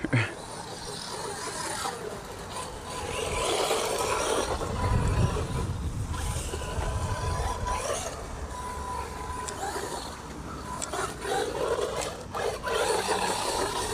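A small MJX H16H brushed RC car drives through dry pine straw, a continuous rasping, rustling motor whine with crunching debris, steady and close throughout with no talking.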